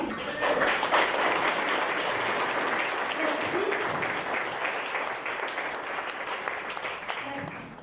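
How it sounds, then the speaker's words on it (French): An audience applauds at a Mauritian event for a new 2025 cohort, honouring the trainers as they stand: a dense, steady wash of clapping that holds for several seconds and slowly thins toward the end. "Je vais vous demander de vous lever 2 secondes qu'on puisse vous applaudir comme il se doit."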